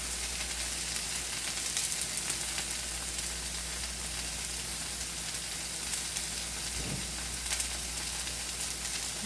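Food with granulated garlic sizzles steadily on a hot griddle, a constant bright hiss with faint crackles and a soft scrape of a utensil partway through, no voices.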